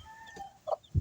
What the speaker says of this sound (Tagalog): may bagong sisiyo na naman tayo